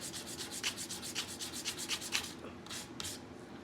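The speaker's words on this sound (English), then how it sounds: "You press nice and hard on the sandpaper and just keep going back and forward." Sandpaper rubbed hard back and forth over a small wooden spring chick craft piece, giving a steady run of scratchy rasping strokes, close and fairly loud with no voices.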